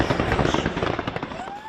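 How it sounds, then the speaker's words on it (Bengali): Fireworks crackle and pop in rapid bursts at a New Year celebration, the dense barrage filling the scene with a steady loud roar and a rising whistle near the end. "চলে আতশবাজি আর কনফেট্টি ছুড়ে উল্লাস।"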